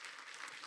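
Brief burst of steady audience applause in a conference hall, a dense even wash of clapping, moderately faint and distant.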